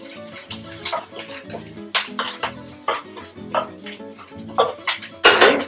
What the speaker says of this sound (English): So right now, the popping sound has begun to increase.